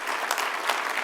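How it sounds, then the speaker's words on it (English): A conference audience applauds an ambassador at a world affairs council dinner event, a brief burst of many hands clapping, fairly close and even, with no voices over it. "Let's give Ambassador a round of applause"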